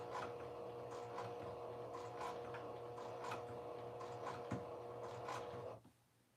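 Home sewing machine slowly top stitching along a fabric edge while a dress is sewn, giving a steady, even mechanical ticking and whirring up close that runs for several seconds before cutting off near the end.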